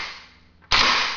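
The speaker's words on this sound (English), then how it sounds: "Hold the trigger back. Cycle the action. Trigger resets and functions normally." An AK-47 rifle is dry-fired during a trigger function test, giving a single sharp, close mechanical snap after a brief lull.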